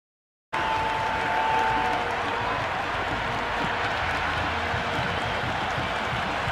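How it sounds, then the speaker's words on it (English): A stadium crowd in the Cricket 26 video game cheers and applauds during an IPL match between LSG and DC, a steady roar that starts abruptly and holds without a break. "There's an almost tangible fervour throughout the crowd at the moment."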